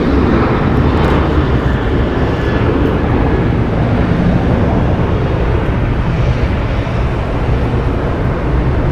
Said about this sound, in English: Departing here on the south side is United Airlines flight 1276 going to Cancun. It's Boeing 737-900ER.